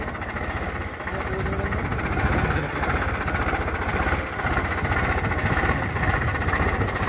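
Sonalika DI 50, Sonalika DI 60 and Powertrac Euro 50 tractor engines labouring slowly under full load in a field pulling demo, a steady loud low diesel drone with even throbbing, close and continuous throughout.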